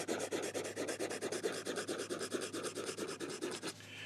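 A Cross 125 Peerless Platinum fountain pen nib scratching across paper with the microphone close to the page, a soft, rapid, rhythmic rasping of repeated short strokes, faint and intimate, with no voice.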